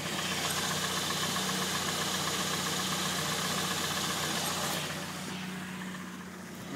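Warm 2001 Chevy S10 with the 2.2 engine idling steadily and close by, a faint fast knock ticking under the even engine hum before it softens slightly near the end.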